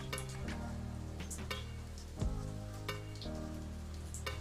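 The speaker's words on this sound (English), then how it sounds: "it's actually raining pretty good now" Steady rain patters on a surface, a dense continuous hiss with occasional louder drops, no voices over it.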